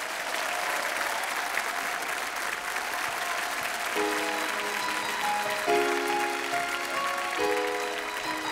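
A concert audience applauds a large gospel choir in steady, dense clapping that lasts throughout, while faint sustained tones drift in partway through.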